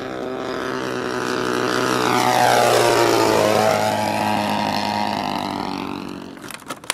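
Radio-controlled model airplane flying a snap roll, its propeller engine whining loud and rising in pitch as it passes close, then falling away and fading, with a few sharp crackles at the end.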